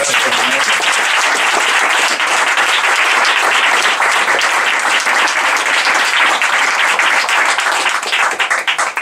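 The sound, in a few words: audience applause at a book presentation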